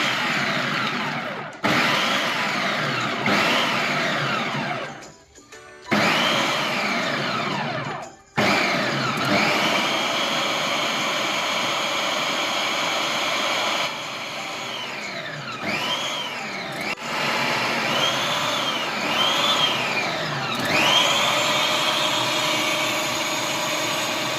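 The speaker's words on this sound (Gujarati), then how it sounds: "આ બધા મિક્સરને આપણે મિક્સર જારમાં લઈ ચાલુ બંધ કરી અને આપણે પીસવાનું છે" A kitchen mixer grinder whirs loudly as it grinds ginger, green chillies and coriander, switched on and off in several short bursts with motor pitch rising and falling between brief pauses.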